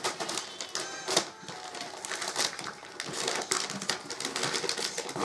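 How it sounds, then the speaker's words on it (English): Scissors snipping and tearing through packaging tape on a wrapped parcel, a busy run of close crisp clicks, crinkles and plastic rustles in irregular bursts. "Nothing that scissors can't cut through"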